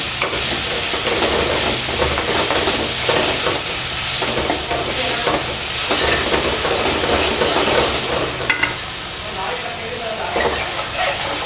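Tomato puree for palak paneer frying and being stirred in a kadhai, loud continuous hissing sizzle with scraping stirs close by, steady for several seconds.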